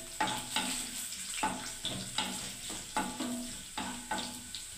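Whole mustard seeds sizzling in hot oil in a home kitchen pan, a steady close crackle with repeated stirring scrapes at a regular pace, no talking.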